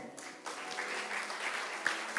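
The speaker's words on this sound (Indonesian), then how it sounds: "Boleh berikan tepuk tangan." A church congregation applauds during a worship service, a moderate wash of clapping with a few sharper claps standing out near the end.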